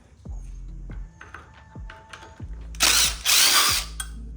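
Power tool driving out Allen screws on a Honda CB1000R motorcycle tail section, a series of short whirring bursts followed by a louder sustained high-pitched spin, close up with no talking.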